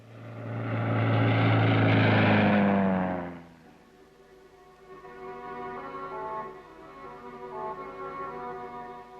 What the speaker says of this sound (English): The patrol maintains contact with Australian Army spotter planes, or bird dogs, which report back any movement on the ground.